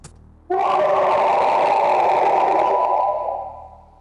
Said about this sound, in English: Cackling Bigfoot video